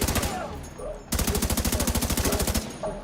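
Rapid automatic gunfire in The Division 2, loud sustained bursts of evenly spaced shots, a short volley then a longer fast string, set in a festive Christmas-themed area of the game.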